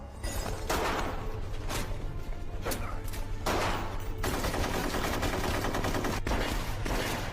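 Bursts of gunfire ring out in several separate volleys with rapid repeated shots, loud and close, over a low steady rumble, with no talk.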